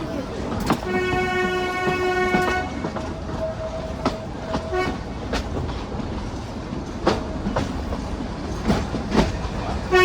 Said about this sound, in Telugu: చాలా సేపు వెయిట్ తర్వాత ట్రైన్ అయితే స్టార్ట్ అయిపోయింది